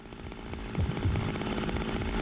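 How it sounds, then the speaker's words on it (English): A chainsaw in the video game Zero Time Dilemma, a steady buzzing engine drone with rapid rhythmic chain chatter, continuous and moderately loud, heard alone. "We can hear the chainsaw."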